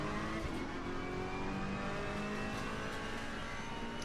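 A Ferrari race car engine in Assetto Corsa Competizione on PS4 at the Kyalami track drones steadily and loudly from close by, holding a sustained high-revving tone with slight pitch shifts and no talk.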